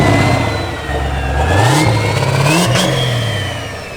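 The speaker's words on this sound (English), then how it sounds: "I love the turbo sound. All the Turbo spoolies sounds sound really good." A diesel-swapped Camaro making about 1,500 lb-ft revs loudly up and down, its engine tone rising and falling while a high turbo whistle spools over it, close and dominant throughout.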